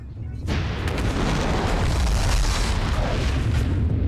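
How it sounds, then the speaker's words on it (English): A lifeboat explosion in the PlayStation game Alien Resurrection: a loud, dense roaring blast that bursts in after a brief quiet moment and rumbles on steadily without letting up. "Lifeboat explosion."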